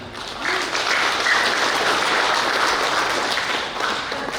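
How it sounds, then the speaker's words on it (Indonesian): Audience at a district village-head election outreach event in Karawang applauding the regent: a dense, continuous wash of clapping from a large crowd, fairly loud and sustained throughout. "Tepuk tangan buat Pak Bupati kita."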